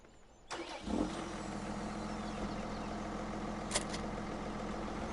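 Tractor engine in Farming Simulator 17 cranks and starts after a second of quiet, then settles into a steady, even idle with a low mechanical hum that continues throughout.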